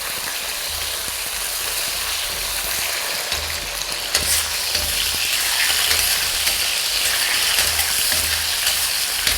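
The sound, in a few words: potato slices pan-frying in oil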